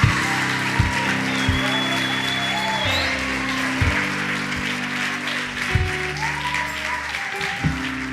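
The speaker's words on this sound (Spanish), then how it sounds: "Marca, dale un aplauso a Cristo" Congregation applause at a bilingual church service, a steady wash of clapping running the whole time beneath sustained low musical tones with recurring bass hits.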